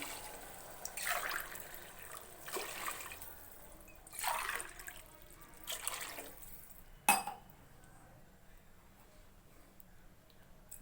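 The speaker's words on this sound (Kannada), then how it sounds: "ಇವಾಗ ನಾನು ನಾಲ್ಕು ಲೋಟ ನೀರು ಹಾಕೋತಿದ್ದೀನಿ" Water pours from a cup into a cooking pot of rice in several short bursts, each a few seconds of splashing, followed by a sharp clink, with quiet room noise between.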